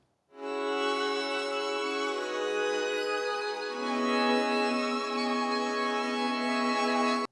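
Sustained bowed violin string patch holding long, smooth notes in a vintage noir-style sample, one chord shifting to another midway, loud and alone.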